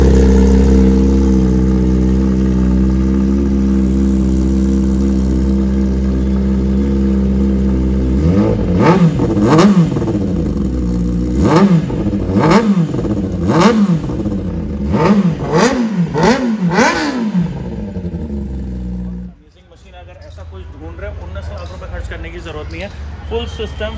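Kawasaki Z900 motorcycle with a full-system exhaust, about 1500 km used, idling steadily close by, then barking through a quick series of sharp throttle blips before cutting off, with a voice talking briefly at the end.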